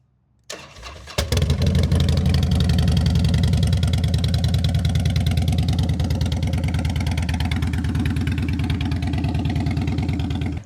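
A 2010 Harley-Davidson Heritage Softail Classic V-twin cranks over and fires at about one second, then settles into a loud, close, steady lumpy idle with a strong low-end thump, no talking.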